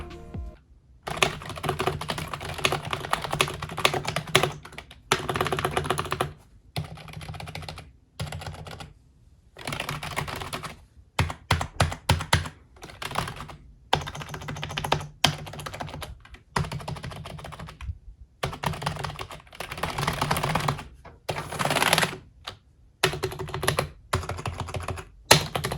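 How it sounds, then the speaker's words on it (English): Steady typing on a Corsair K55 RGB Pro gaming keyboard in bursts with short pauses, close and clear, no voices. "Now here's a sound test of the keyboard."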